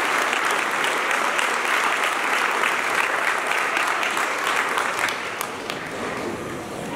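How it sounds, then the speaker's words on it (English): Sustained applause from a large audience fills a Christmas charity breakfast hall, a dense steady wash of many hands clapping that eases slightly toward the end. "a round of applause"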